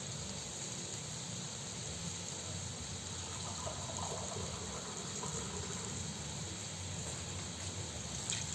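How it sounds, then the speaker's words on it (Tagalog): Broth poured into a pot of bean sprouts and tofu gives a steady, continuous liquid rush that holds evenly for several seconds over a low background hum, with no talking. "Lalagyan natin ng konting sabaw."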